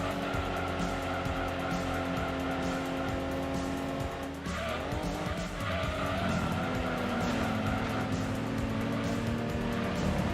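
Race car engines droning steadily in Gran Turismo 2, with a pack of cars running close together and tires squealing and skidding through a corner midway, continuous and loud with no talk.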